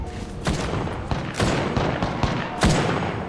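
Gunfire in Apex Legends comes in rapid, loud bursts of sharp cracks with uneven gaps between them, thumping in a chaotic firefight with no speech.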